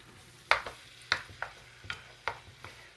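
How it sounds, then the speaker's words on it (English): Wild mushrooms and garlic being stirred in a pan: a series of distinct scraping, clattering strokes about every half second over a soft, steady sizzle, with no talking. "I'll go ahead and give it a stir."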